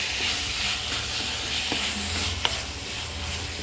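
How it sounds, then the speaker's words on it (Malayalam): Tomatoes sizzle and hiss steadily in a hot pan while cooking down for an egg roast, a close, continuous frying sound with a couple of faint utensil taps. "തക്കാളി വെന്തുകൊണ്ടിരിക്കുന്നുണ്ട്."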